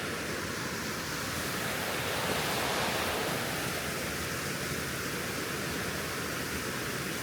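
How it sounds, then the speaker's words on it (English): A waterfall seen from the top of Beach Bottom Falls in the NC–VA mountains roars as a steady, broad rushing wash of water, loud and close, with no voices. "Here we are at the top of Beach Bottom Falls."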